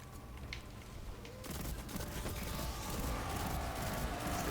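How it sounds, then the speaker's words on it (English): Hand cannon fire in a Destiny-style video game, with a burst of loud, dense shots arriving partway through and continuing as sustained rapid fire over a steady background hum. "I guess we can shoot him with the hand cannon."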